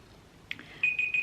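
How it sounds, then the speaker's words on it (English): A timer alarm goes off, a few short, bright electronic beeps repeating in quick succession after a brief click, close and moderately loud in a quiet room. "And that's the timer."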